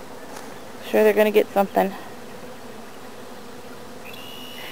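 Honeybees flying into a hive in spring, a soft steady buzz of many insects close by under a brief stretch of someone talking.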